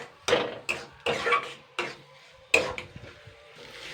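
A spatula stirs taro leaf mash with tamarind in a cooking pot, making about six distinct scraping, clacking strokes in an uneven rhythm, close and alone with quiet gaps between.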